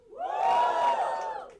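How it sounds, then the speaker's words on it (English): A room full of audience members cheers and whoops together in one sustained, loud burst that swells and then eases off, prompted by a live comedy-style survey. "All the non-smokers in the room, give me a cheer."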